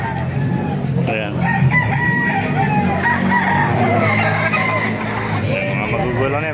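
Chickens and roosters at a busy poultry market in Baliuag, Bulacan, with repeated crowing and clucking close by over constant crowd babble, nearby talking and passing traffic.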